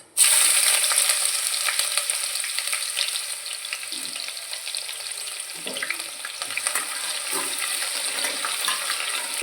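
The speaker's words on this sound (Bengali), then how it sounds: "এবার আমি দিয়ে দিব কেটে কুচিয়ে রাখা পেঁয়াজ" Chopped onion hits hot mustard oil over a crackling tempering, setting off a sudden loud sizzle that settles into a dense, steady frying hiss with faint scraping stirs, close and without voices.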